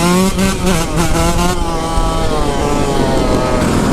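A 1980 Honda two-stroke motorcycle rides past loud and close, its engine revving in a steady rising drone with a brief burst of rapid throttle pulses at the start, heard alone without talk.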